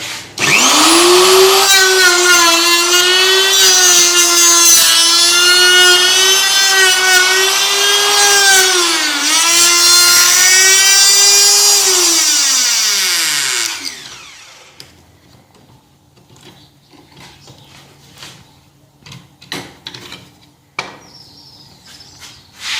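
A router cuts a tenon in timber with a loud, high-pitched whine that holds steady for about fourteen seconds, dips briefly once, then winds down to quiet, followed by faint knocks and handling sounds.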